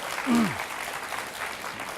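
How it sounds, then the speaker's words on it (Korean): Members at a Korean party policy convention give a short burst of applause; the clapping is close and steady, and a brief voice sounds over it near the start. "박수 한번 주시죠."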